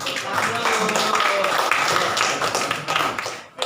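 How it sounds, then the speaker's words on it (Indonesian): A small group claps in a lesson setting, a busy patter of hands at fairly close range that fades near the end, with speech mixed in. "Oke, kita tepuk tangan dulu"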